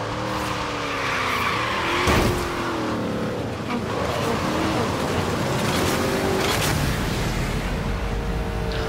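Racing car in the Forza Horizon Hot Wheels expansion, with engine drone, tire squeal and skidding throughout and a sharp impact near two seconds as it slams into a wall, loud and continuous.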